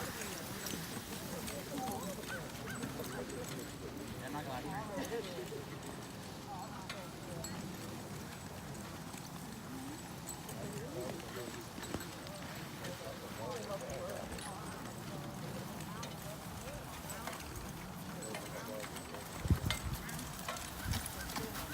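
Draft horses step about during a demonstration, their hooves clip-clopping softly amid outdoor ambience while people talk throughout, with a sharper thump near the end.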